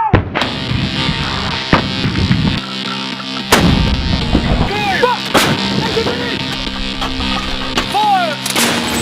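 An American M777 155mm howitzer fires in wartime Ukraine, giving sharp, heavy booms spread through the clip over a steady outdoor background with scattered faint noises.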